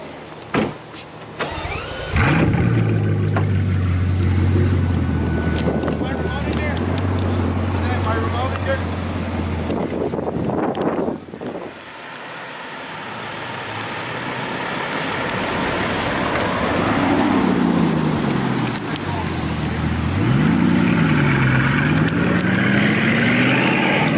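A Ferrari Enzo fires up with a sharp crank and settles into a loud, deep idle, then rises through a swelling rev and drops back, heard close outdoors with voices talking over it.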